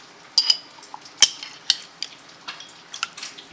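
A metal spoon clinks and taps against a dish while Smucker's strawberry preserves are scooped out, giving a handful of sharp, close ringing knocks with soft scraping between them.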